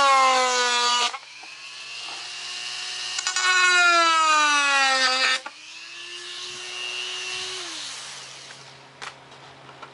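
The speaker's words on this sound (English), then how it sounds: "fire up this Dremel" A Dremel rotary tool is running during work on a foam and balsa model Super Cub plane. Its loud, close, high-pitched whine rises and falls in pitch across several bursts, with brief drops between them and a faint hum underneath.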